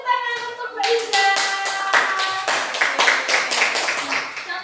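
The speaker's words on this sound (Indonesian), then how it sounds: "Nah, kita beri tepuk tangan untuk Mbak Iza." Classroom audience of children claps for a presenter, a run of fairly close, distinct hand claps at an uneven rhythm, with a held sung or spoken tone at the start.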